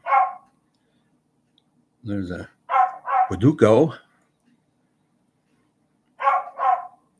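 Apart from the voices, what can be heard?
dog barking outside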